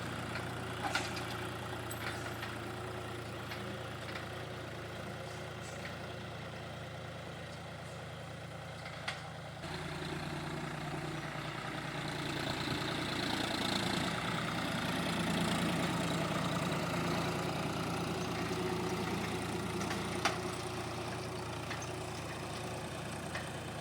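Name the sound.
tractor plowing a field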